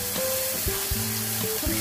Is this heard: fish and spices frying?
yes